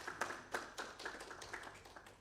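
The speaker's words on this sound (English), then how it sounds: "another round of applause for GIZ" Faint, thin clapping from a symposium and anniversary celebration audience, with separate hand claps falling in a loose, quick rhythm at a distance.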